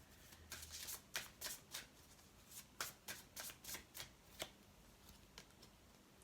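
Tarot cards are shuffled and handled close by, a run of quick riffling flutters and soft slaps in an irregular rhythm over a quiet room.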